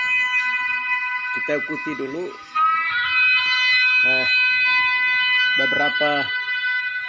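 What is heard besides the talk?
trumpet (sangkakala) blast played from a recording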